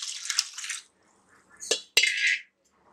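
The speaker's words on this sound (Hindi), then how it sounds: "अब इसमें हम पानी ऐड करते हैं।" Water splashes and trickles in short bursts as it is poured onto split urad dal, with a small drip and a sharp tap between pours, fairly close.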